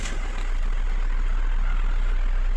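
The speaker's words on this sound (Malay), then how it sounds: "kita panaskan enjin dulu" An Isuzu D-Max diesel engine idles steadily while warming up, a constant low rumble that is loud and close, with no voices over it.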